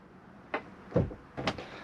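Caravan shower screen in an Adria Twin 600SPB Supreme pulled round, three short sliding and knocking sounds in quick succession, close and fairly quiet, with no speech.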